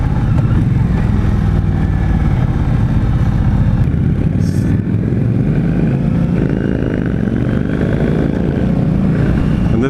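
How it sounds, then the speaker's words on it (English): A 2016 Indian Scout motorcycle engine runs hard and loud throughout, a continuous close-up drone that rises and falls in pitch as the rider revs it up, with wind rushing past. "This bike revs pretty high."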